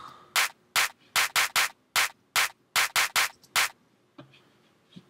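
A single layered clap sample from a drum kit, brightened with boosted high end, struck about ten times in a loose rhythm, each hit crisp, loud and short, followed by a faint low thud near the end.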